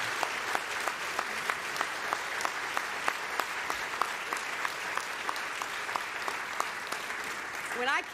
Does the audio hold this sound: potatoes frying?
no